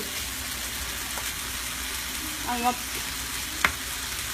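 Bacon frying on high heat in a pan, a constant dense sizzle and crackle, with a brief clatter of utensil and one sharp tap near the end, no voices.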